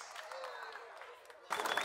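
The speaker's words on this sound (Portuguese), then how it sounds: "Mais aplausos, senhoras e senhores," Audience applause at the inauguration of a public market, a faint hum of crowd noise with scattered claps that swells into louder, fuller clapping near the end.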